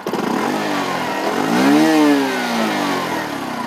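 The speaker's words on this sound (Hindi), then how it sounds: "अब मैं आपको इस बाइक का एग्जॉस्ट साउंड सुना देता हूँ" A Bajaj Platina 110 motorcycle's exhaust close up, the single-cylinder engine idling, then revving up in one smooth swell and dropping back to a steady idle, with no talking.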